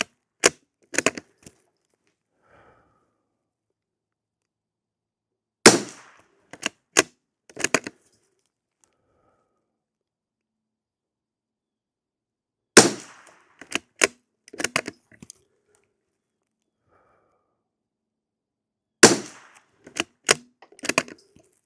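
Rifle fire with CCI SV ammunition outdoors, loud sharp cracks in four separate bursts of several quick shots each, with silent pauses between the bursts.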